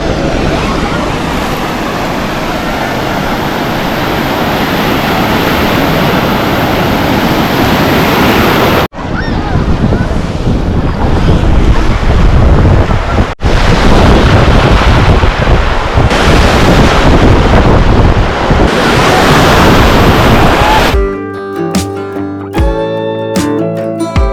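Ocean waves at the beach in Murudeshwar, India: loud, continuous surf and rushing water with heavy wind buffeting on the microphone, ending in a brief burst of music.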